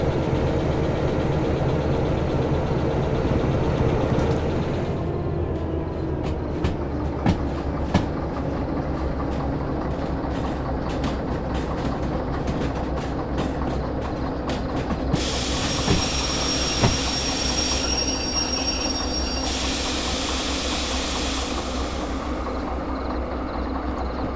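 A train in the Derail Valley video game runs along its rails with a loud continuous engine rumble, rhythmic clacks of wheels over rail joints and shifting mechanical tones, with no talking.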